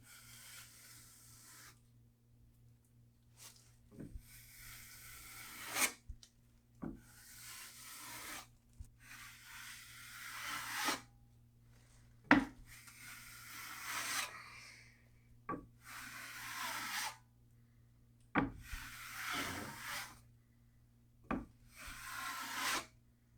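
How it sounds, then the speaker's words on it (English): A 12-inch drywall knife scrapes and smooths joint compound over a California patch, with repeated rasping strokes and sharp taps at the ends of passes; the scraping is close and steady, over a low constant hum, with no voices. "So now I'm going to use the 12-inch knife to smooth things out and feather the edge."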